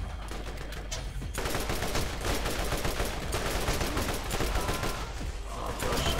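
Rapid bursts of gunfire from the video game Borderlands, dense and continuous for several seconds, loud and close with no talk over it.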